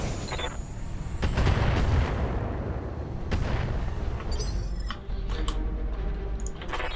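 Heavy mech weapons in the BattleTech RogueTech game fire in loud booming volleys, with a big blast near the start and another mid-clip over a rumbling din, no voices.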